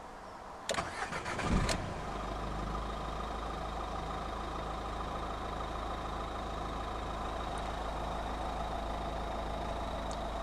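A 2014 Dacia Duster 1.5 dCi 110 diesel with a 6-speed manual cranks briefly and fires up, then settles into a steady, even idle that runs on for several seconds, heard close with no talking.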